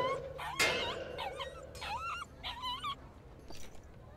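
A dog in The Inquisitor video game whimpers in a series of high, wavering whines that rise and fall, coming close and fairly clear after a sharp knock near the start.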